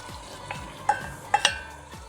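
Spaghetti is stirred in a pot of boiling water while cooking carbonara, close-up with rhythmic scraping and swishing strokes, a few sharper clinks of utensil against the pot, no talking.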